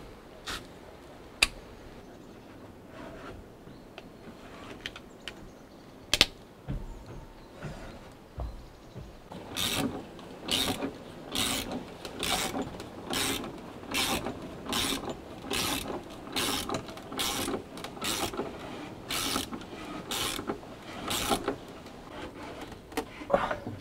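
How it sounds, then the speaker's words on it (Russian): A ratchet wrench with a socket tightens lag screws into a cedar log cabin porch, giving a steady run of sharp, close clicks in the second half after scattered knocks and handling noises. "Сейчас берем вороток с головкой и затягиваем."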